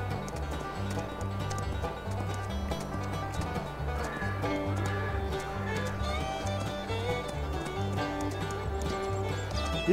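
A black horse's hooves clip-clop at a steady riding pace in Farming Simulator 22. The even, repeating hoof beats sit under continuous background game music.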